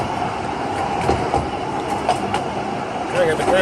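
A Brecon Railway train in Wales runs steadily, its rumble and wheel clatter continuous, with a brief wheel squeal near the end and faint voices underneath.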